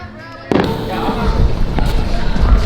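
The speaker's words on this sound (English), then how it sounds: "So we got this firework." A firework set off outdoors in Nevada on the Fourth of July: a sudden sharp bang followed by crackling bursts and rumbling pops, loud and close, with voices shouting.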